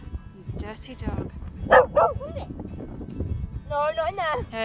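A muddy dog out on a pasture gives a few short, high yipping barks, one near the middle and another toward the end, amid a person talking.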